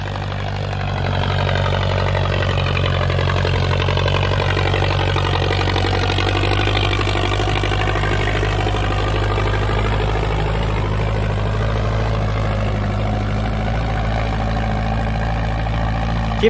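A 6640 tractor engine runs steadily and loud throughout while plowing a field, a low chugging drone with a constant hum, no voices over it.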